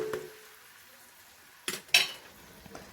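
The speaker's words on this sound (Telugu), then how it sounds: "ఒక రౌండ్ తిప్పుకొని ఒక 5 minutes మగ్గనిద్దాం." Tomatoes for a fish curry get stirred in a pan, a quiet stretch followed by two sharp metallic scrapes and clinks of a utensil against the pan, close and distinct over a faint background.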